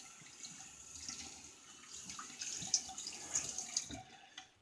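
Running tap water rinses excess soap out of a shaving soap tub, a steady faint splashing wash close by with a few small clinks near the end.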